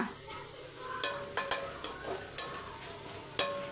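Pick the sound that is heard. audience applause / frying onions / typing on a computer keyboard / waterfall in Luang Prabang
frying onions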